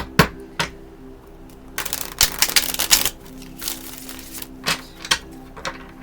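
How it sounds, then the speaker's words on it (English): A series of sharp riffling bursts, like playing cards being shuffled, come in clusters against a quiet background, with a few isolated snaps between them. "I shuffle 8 times, pull some cards"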